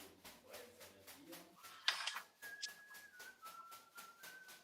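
A video game character whistles a tune in a steady sustained melody, faint and somewhat distant, over a low background hum with brief quiet speech.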